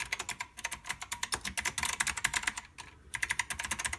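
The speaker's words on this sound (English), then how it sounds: "it is a mechanical keyboard, and you could tell, listen to the key strokes" Rapid, crisp clacking of keys on a clicky mechanical PC/AT keyboard, a fast steady typing rhythm with one short pause, close and alone.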